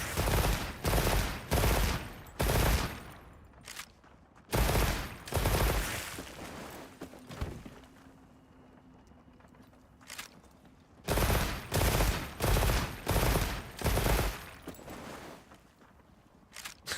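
Rapid bursts of bowgun fire in a video game, loud clusters of shots in quick succession separated by a quieter pause with faint background game sounds.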